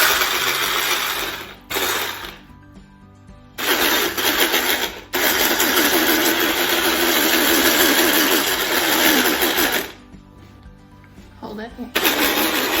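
Electric mixer whirring on low setting through funnel cake batter, a steady motor drone that cuts out and restarts several times, with people talking over it.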